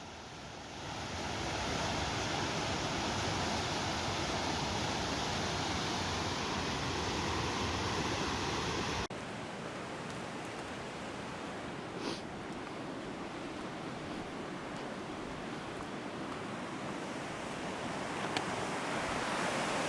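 Bissett Creek rushes into the Ottawa River below a bridge as a steady broadband roar of flowing water. The roar is heavy and continuous, then drops to a quieter, slightly different tone halfway through, with light wind noise.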